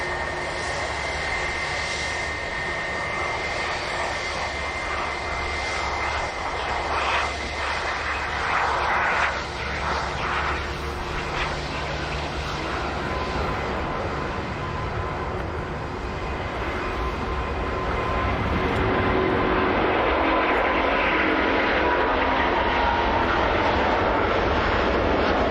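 Airbus A350 airliner at Manchester Airport, its engines producing a loud continuous roar and whine that swells slightly toward the end, heard from a spotting position nearby.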